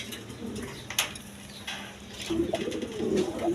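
A male racing pigeon coos repeatedly in a coop, soft low calls close by, with a few clatters and chirps from other birds around.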